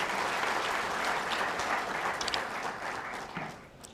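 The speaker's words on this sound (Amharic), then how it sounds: "እናንተን መሰብሰብ ስለቻሉ ለመጨረሻ ጊዜ አጨብጭቡላቸው።" An audience at a film premiere applauds continuously, a dense crowd clapping that holds steady for several seconds before tapering off, heard from within the hall.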